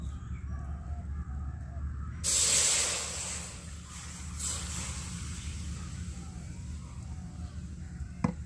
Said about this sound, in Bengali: তো একটু জল দিয়ে এই মাছগুলোকে আমি কড়াইতে দিয়ে দেব।